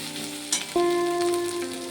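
Cumin paste going into onion, ginger and garlic frying in a pan, a close steady sizzle with a soft spoon clink, joined partway by a sustained tonal hum.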